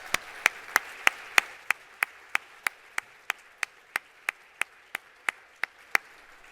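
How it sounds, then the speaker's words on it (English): Clapping after a lecture in the 2024 Gasser Lecture Series: sharp, evenly spaced claps at a steady, unhurried beat, like only one or a few people clapping in time. About twenty claps come through clearly with nothing else in between. "Let's give her another round of applause."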